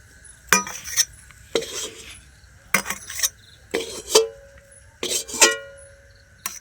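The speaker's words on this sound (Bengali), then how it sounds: "খুন্তি দিয়ে একটু খেলিয়ে দেব" A spatula spreads green pea filling across a metal pan with several distinct clinking, scraping strokes, close and fairly loud, separated by brief quiet gaps.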